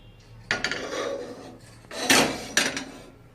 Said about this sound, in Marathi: तर आपण आता कढई ठेवूया वरती.